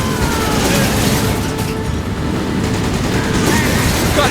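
A mounted gun hammers away in Resident Evil 5, a loud, unbroken roar of rapid fire with rumbling impacts that fills the whole stretch without a pause.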